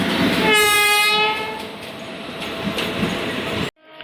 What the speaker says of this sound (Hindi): सियालदा के WAP7 के साथ चलती है मौर्य एक्सप्रेस